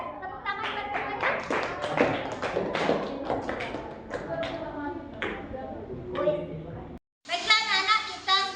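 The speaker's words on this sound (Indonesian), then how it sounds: "Tepuk tangan buat semuanya" A classroom of students claps together in a scattered burst of hand claps mixed with children's voices, then the claps fade into chatter before a short gap and more talking.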